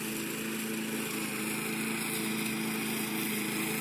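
Push lawn mower cutting long grass on the grounds of a scout hall, a continuous steady engine whine close by, unbroken and without speech.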